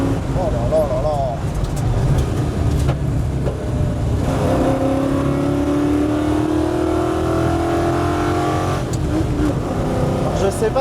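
A 1965 Ford Mustang fastback, an old car with no driver assists, roars along with its engine revving and rising in pitch through gear pulls, heard from close up inside the car over continuous loud running noise, with people talking over it.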